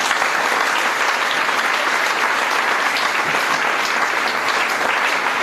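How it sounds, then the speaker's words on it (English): A crowd claps continuously and evenly, a full, loud wash of applause that holds steady throughout. "I want everybody to clap for Dr. Ifediora"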